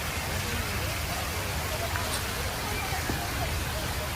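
Park fountain water pouring and splashing in a dense, unbroken hiss, fairly close and steady, with faint background voices and someone talking nearby.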